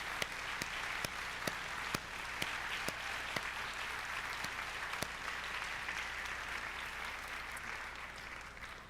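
Steady applause from a convocation audience for nurse practitioner and perfusion medicine graduates, sustained and even throughout with scattered sharper claps standing out.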